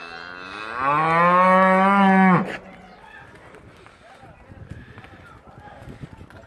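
A loud, long cow moo rises and ends abruptly, followed by quieter outdoor background noise with faint shuffling, as cows move through a village.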